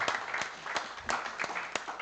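An audience at a pesantren talk show claps for a speaker, a fairly quiet, scattered round of hand claps with a few sharper individual claps standing out from the steady patter.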